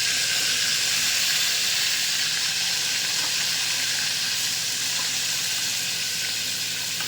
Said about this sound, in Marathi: त्यामध्ये एक एक करून सर्व वांगे सोडून घ्यायचे.